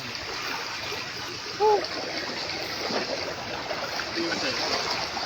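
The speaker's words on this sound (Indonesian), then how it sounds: "Deras airnya Om" Swift-flowing stream water rushes in a steady, loud, broadband wash throughout, with a brief splash near the start and soft voices faintly under the flow.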